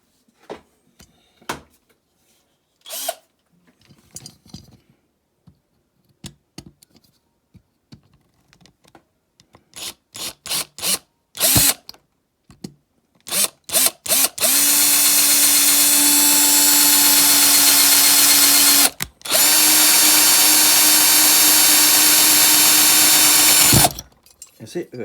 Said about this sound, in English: that's riveted in, so I might have to drill that out.